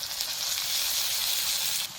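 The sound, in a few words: frying ginger garlic with potato and tomato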